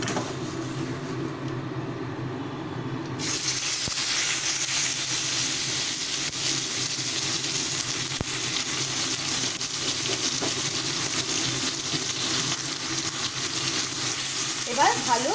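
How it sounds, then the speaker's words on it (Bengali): Spice paste for katla fish curry frying and sizzling in leftover fish-frying oil, with a steady loud hiss that continues throughout, occasional stirring, and no voices. "মশলাটাকে ভালোভাবে কষিয়ে নিচ্ছি।"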